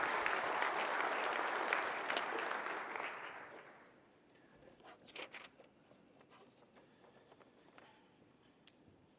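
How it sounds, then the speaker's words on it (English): An audience at a city State of the City address gives a round of applause that fades out after about four seconds, followed by quiet room sounds and scattered rustling. "Let's give these 3 gentlemen a nice round of applause."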